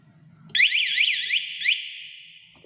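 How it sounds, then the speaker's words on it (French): An electronic alarm on a 200cc quad bike sounds a loud, close, warbling siren-like tone for about two seconds, then fades slowly, with no talking. "Là il y a aussi l'alarme."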